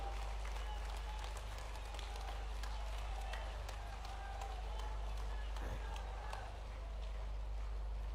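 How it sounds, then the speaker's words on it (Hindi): Crowd applauding at a public event in Sheopur, a medical college function; faint, distant clapping runs steadily over a heavy low hum, with voices over it. "जोरदार तालियों के साथ शिवराज सिंह जी को धन्यवाद दीजिए, और जोरदार तालियां, थोड़ी और जोर से"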